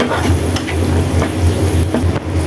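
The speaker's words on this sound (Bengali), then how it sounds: "এই যে চিংড়ি দিয়ে নেড়ে চেড়ে দিলাম।" Shrimp frying in a pan while being stirred, giving a steady loud sizzle with scraping spatula strokes and light clinks of metal throughout, close up and with no voices.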